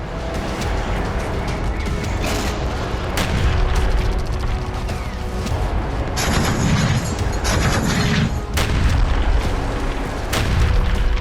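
Explosions from Ukrainian shelling in Belgorod, Russia, booming one after another over a steady urban din, with heavy low thuds and sharp bursts recurring through the stretch and a denser rumbling cluster midway.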